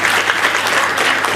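A crowd at a 15 August Independence Day celebration in Chandpur bursts into loud, steady applause. The dense clapping fills the whole moment, with no speech over it.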